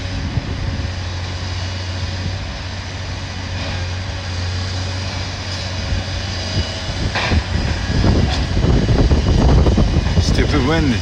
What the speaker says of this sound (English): Stupid wind, stop.